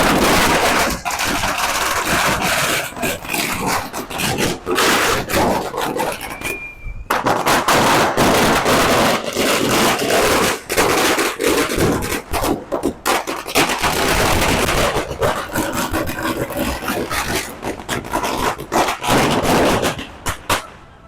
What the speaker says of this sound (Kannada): ವಾವ್, ಸೂಪರ್, ತುಂಬಾ ಚೆನ್ನಾಗಿ ಹೊಡಿತು ಪಟಾಕಿ.